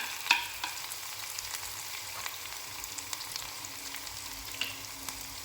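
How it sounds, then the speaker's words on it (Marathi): Finely chopped green chillies frying in a pan for dhokla, a soft steady sizzle with a few faint spoon taps, quiet and close, with no voices. "मिरची छान भाजून घ्यायची आहे."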